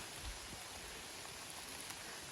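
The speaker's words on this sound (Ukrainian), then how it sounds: "Паде дощ." Rain falls steadily, a constant soft hiss with scattered drops tapping nearby.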